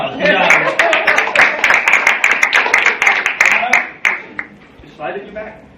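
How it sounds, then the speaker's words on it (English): Audience applause at a real estate self-defense seminar, a dense burst of clapping that holds steady for several seconds and then thins out, with a voice speaking over it. "Give her a round of applause."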